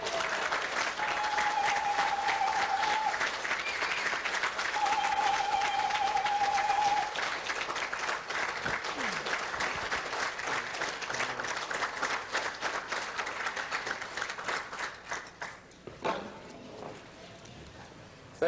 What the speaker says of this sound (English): Please give it up for Brother Reverend Phil Valentine.